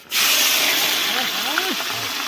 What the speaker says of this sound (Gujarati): એટલે આ ડુંગળીનો વઘાર કરી નાખવાનો.